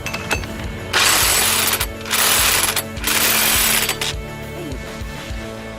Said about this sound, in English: I'm gonna bring my impact wrench back out with that Loctite red on there.